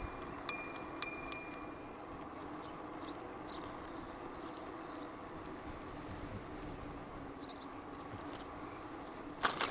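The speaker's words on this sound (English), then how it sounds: "And I'll tell you, this bell has come in handy today." Bell on a VanPowers UrbanGlide Pro e-bike rings twice in quick, clear dings near the start, followed by steady road and riding noise.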